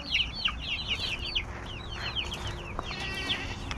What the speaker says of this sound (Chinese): 都是小鸡。